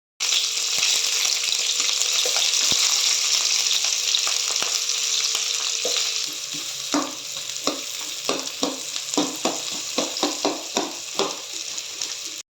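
Crab fries in a pan, a steady dense sizzle that eases midway into crackling pops and the scrape of stirring, close and loud with no talk.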